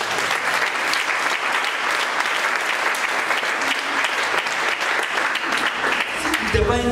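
A church congregation claps in sustained, dense applause to acclaim the Lord, loud and continuous throughout, with a voice heard near the end.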